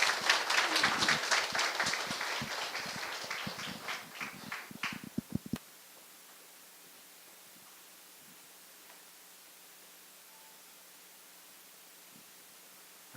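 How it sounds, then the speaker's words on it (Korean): An audience at a mathematics society plenary lecture claps enthusiastically for about five seconds, the applause thinning to scattered claps before cutting off into quiet room hiss. "박수로 환영하시죠."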